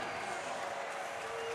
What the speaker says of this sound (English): As the crowd gets loud here at USF